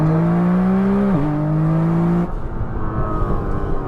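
A heavily modified 2000 hp Nissan GT-R pulls hard in third gear from a rolling start, its engine a loud, rising tonal roar with a quick shift blip before the note suddenly drops off and fades into road noise.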